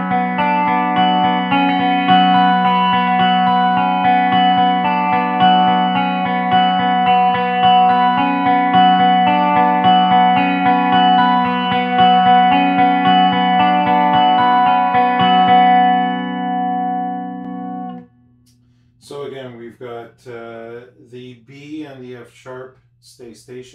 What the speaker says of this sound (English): Having those kind of ringing sounds is something that I find the 12 string to be quite good at.